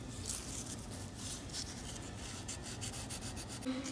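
A dental final impression being trimmed, giving a steady, close scraping and rubbing with faint rhythmic strokes throughout, no talking.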